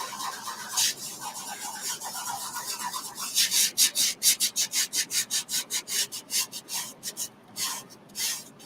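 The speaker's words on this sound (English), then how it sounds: "So now I'm going to burnish it down really well." A tool rubs briskly back and forth over a Chalk Couture transfer laid on a wooden sign made of paint sticks, producing a close, steady run of rhythmic scraping strokes that quicken midway.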